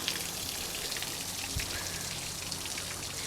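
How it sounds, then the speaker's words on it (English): A small man-made waterfall splashes and patters steadily nearby, a soft continuous rush of falling water with no voices. "I could just sit here all day and just listen to this waterfall."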